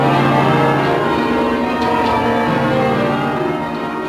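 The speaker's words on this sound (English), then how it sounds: "the bells are finally doing what they do best" Church bells in Southwark ring loudly and continuously, their overlapping tones forming a dense, sustained wash with no pauses.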